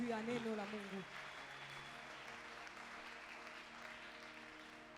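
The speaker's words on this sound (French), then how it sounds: "Est-ce qu'on peut acclamer pour la parole de Dieu?" A church congregation applauding the word of God, a steady wash of clapping at moderate distance that carries through the whole stretch, with a voice briefly heard at the start.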